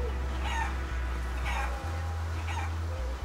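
Game chicken in Guacamelee clucking in three short squawky bursts roughly a second apart, over a steady low droning music bed.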